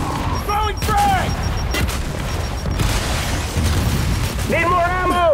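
Frag grenade blasts in Gears 5 horde mode on the Pahanu map, with repeated booming explosions amid gunfire and chaotic in-game combat, and character voices shouting over the action.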